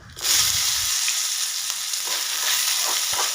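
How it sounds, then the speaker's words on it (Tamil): Loud, continuous sizzling of coconut and spices frying in hot oil, with a few scraping stirs as it cooks. "இது நல்லா பொறிஞ்சு வந்ததும் ஒரு கைப்பிடி அளவுக்கு தேங்காய் சேர்த்திக்கலாம்"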